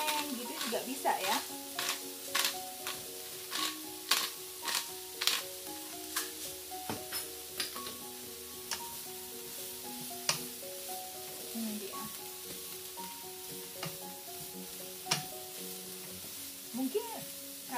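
Fried rice seasoned with black pepper is stirred and fried in a pan, with repeated spatula scrapes and sharp clinks against the metal over a soft, steady sizzle, without talking.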